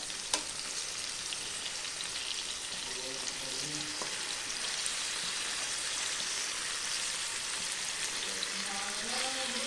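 Chicken pieces frying in coconut oil in a pan, a steady soft sizzling hiss with a couple of brief clinks as the pieces are turned, fairly quiet and even throughout.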